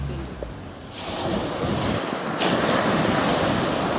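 Ocean surf at Delta beach rolls in as a broad, continuous roar that swells after a quieter start, mixed with gusty wind buffeting the microphone, loud and close.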